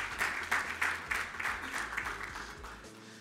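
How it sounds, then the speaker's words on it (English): Audience applause at a televised school debate final, welcoming a guest blogger and poet as judge; steady crowd clapping with pulsing rhythm throughout, fairly distant and moderately loud. "Round of applause."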